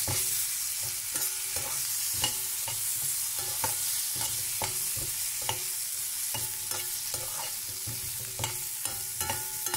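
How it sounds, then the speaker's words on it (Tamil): Spices and tamarind sautéed in a pan, with a steady frying crackle and regular scraping strokes of a spatula repeating roughly every half second, close and without talk. "புளியும் போட்டுட்டேன். ஒரு வதக்கு வதக்கலாம்"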